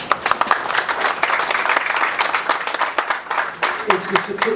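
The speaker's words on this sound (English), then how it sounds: "And they all deserve a round of applause." A community gathering's audience applauds elected officials, a steady crackle of many hands clapping that runs throughout, with a voice starting to speak near the end.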